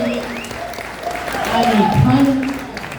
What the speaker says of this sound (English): let's give a huge clap to them